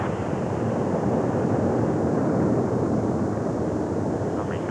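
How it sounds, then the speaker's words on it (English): Concorde's four Olympus engines at full reheat power give a steady, loud, broadband roar with constant rumble and no breaks, heard from inside the aircraft. "25 tons of thrust from the 4 reheated Olympus engines smoothly accelerates Concorde through the mythical sound barrier."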